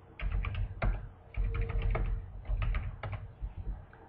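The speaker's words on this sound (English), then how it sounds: "Type in the stocks" Computer keyboard typing as stock symbols are entered into trading software: quick bursts of close, light key clicks with short pauses, alone and fairly quiet.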